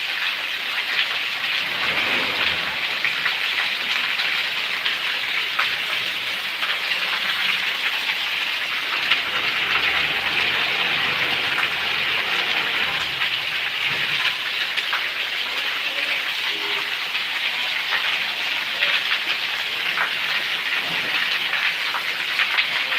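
Steady, dense downpour of heavy rain in Patan hissing continuously throughout, with no voices and no pauses in the roar.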